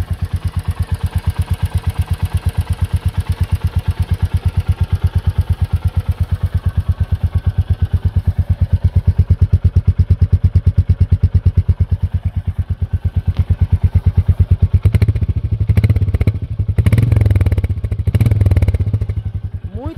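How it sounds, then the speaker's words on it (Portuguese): A Royal Enfield Meteor 350 single-cylinder motorcycle engine idles steadily with an even, thumping pulse, close by; around the last few seconds the revs rise and clatter swells. "Esse é o barulho do motor, ó."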